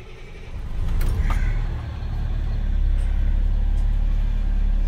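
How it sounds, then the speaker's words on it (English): A 2007 Country Coach Quad 36 motorhome engine turns over and settles into a steady, deep idle rumble, close and fairly loud, with a brief clatter near the start. "So the engine's running."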